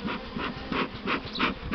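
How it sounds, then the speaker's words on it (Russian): Agitated honeybees in a split colony, next to an introduced unmated Buckfast queen, give off a close, continuous buzz that swells in rhythmic pulses roughly every third of a second. "Злятся пчелы, знают, что возле матки."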